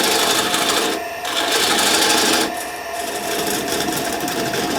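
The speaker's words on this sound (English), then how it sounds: "I'm going to be using a parting tool to part down to the length I need" A parting tool cuts into extremely dry pine spinning on a wood lathe, giving a loud, continuous rasping whir close by. It dips briefly twice as the cut eases, then resumes.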